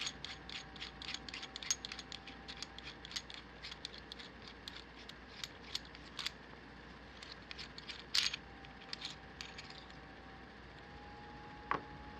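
Aluminum Ulanzi ST-02S phone tripod mount being undone, rapid quiet ratcheting clicks in a steady run followed by a few sharper separate clicks, close and faint.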